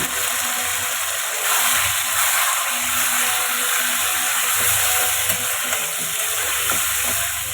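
Marinated chicken frying in oil in a kadai with bay leaf, a loud continuous sizzle with stirring scrapes, close and steady with no voices.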